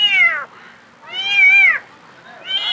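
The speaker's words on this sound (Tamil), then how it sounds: "இப்போ பார்த்திங்கன்னா இந்த பூனை கத்துறதுனால பார்த்திங்கன்னா இருக்கிற 2 பூனையும் வெளியே வந்து என்ன பூனை கத்துது அப்படின்றத தேடிட்டுருக்கு" A house cat meows loudly and close by, three drawn-out, rising-and-falling calls separated by short quiet gaps, with no talking.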